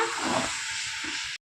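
Washed chicken added to hot oil with chilli powder: a loud, steady hiss of sizzling, with some low bubbling underneath, that cuts off abruptly.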